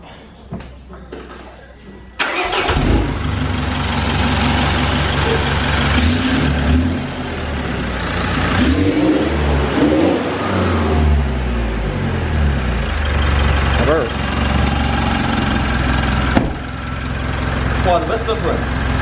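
Mitsubishi Evo 5 with a DPF delete cranking and catching on its first startup, then settling into a loud, rough, steady idle close by, with a few revs and voices talking over it.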